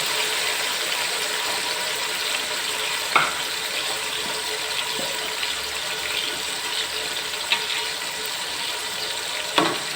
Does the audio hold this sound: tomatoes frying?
yes